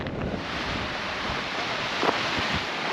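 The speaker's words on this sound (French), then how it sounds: "Mais il y a un vent, mais c'est un truc de dingue quoi." Strong wind buffets the microphone in open Icelandic terrain, a loud continuous roar and rumble with gusts throughout, no speech.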